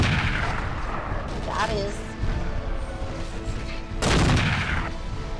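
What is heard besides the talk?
dual shotguns firing in the video game Mechwarrior 4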